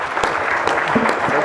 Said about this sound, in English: Would you like to join me in giving a round of applause to the panel?